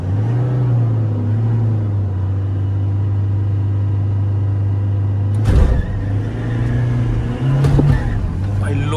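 A tuned Tata Safari and a Toyota Innova Crysta drag racing, a loud steady engine drone with a low hum and brief wind buffeting bursts, while someone talks over it.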